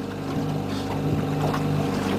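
A fishing boat's motor drones steadily while trolling for pike on Lake Sävelången in Sweden, a close, continuous engine hum mixed with wind buffeting and water rush.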